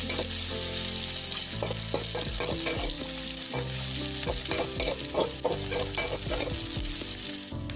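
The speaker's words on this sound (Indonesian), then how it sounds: "Masukkan cabai merah keriting, kita tumis sampai cabenya layu." Loud, steady sizzling as curly red chilies are stir-fried in a pan until wilted, with frequent scraping and clinking of a spatula stirring through.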